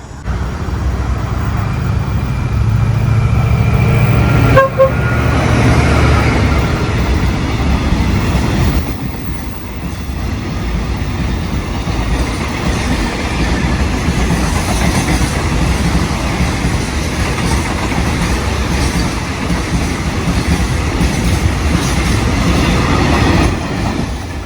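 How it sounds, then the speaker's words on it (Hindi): A train rumbles steadily past at close range near Pattaya, Thailand, a loud continuous roar of wheels and carriages with faint rhythmic clatter throughout. "जी हाँ, अभी ट्रेन आ रहा है"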